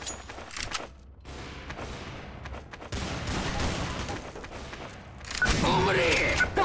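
Gunfire in Counter-Strike: Source, scattered shots and bursts at moderate loudness, rising into a heavier, louder volley near the end, with a voice speaking briefly.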